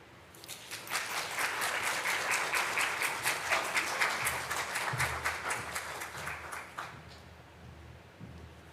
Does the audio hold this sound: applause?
yes